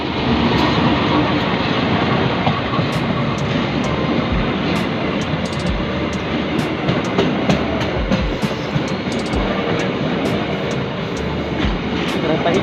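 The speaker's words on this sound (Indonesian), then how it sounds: "Kereta hijau." A green train passing through Rancaekek station in the rain, a loud continuous roar with rhythmic clicking of wheels over rail joints throughout.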